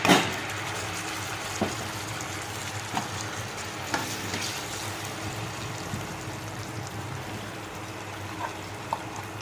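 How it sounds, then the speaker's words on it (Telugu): Steady sizzling as ripe red chilli tomato chutney is stirred into a hot tempering, with occasional stirring scrapes and clicks, close up, no talking. "ఇప్పుడు టమాటా పచ్చడి ఇందులో వేసి కలుపుకోవాలి"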